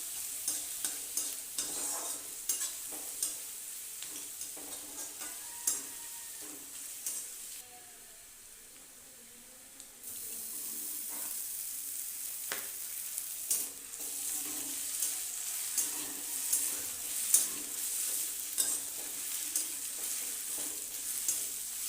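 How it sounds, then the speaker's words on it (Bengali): Chopped garlic and ginger fry in mustard oil with bay leaf for a chicken and potato curry. The steady sizzle sits close, with repeated spatula scrapes and stirring clicks throughout. "রসুন কুচি একটু ভাজা ভাজা হয়ে গেলে দিয়ে দেবো আদা কুচি।"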